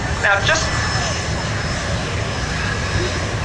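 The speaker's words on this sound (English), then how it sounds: "Or the Virgin 747 is coming in." Virgin Boeing 747 jet passing over an air fair, a loud broad engine roar filling the clip under a voice.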